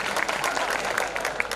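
A college cultural programme audience claps for performers, giving dense, steady applause close by with sharp individual claps standing out over the crowd.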